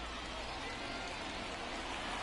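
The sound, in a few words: rain falling on ballpark in MLB The Show video game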